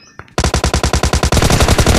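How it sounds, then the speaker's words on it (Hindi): Rapid automatic gunfire from a PUBG Lite match, a burst of loud, evenly spaced shots rattling without pause after a brief quiet start, with no talking over it. "तो बस थर्डल क्लियर करके जैसे ही यहाँ आते हैं तो यहाँ पे कुछ गन साउंड्स आते हैं"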